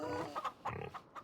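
Pigs grunting and oinking on a farm in Farming Simulator 25, a few short snorts spread over a little over a second, fairly faint and close.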